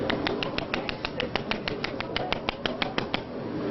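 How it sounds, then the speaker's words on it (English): Hand snapping, a rapid, evenly spaced run of sharp, bright snaps, about twenty in quick rhythm, close and crisp over a faint background. "can you give us some hand snapping, your style?"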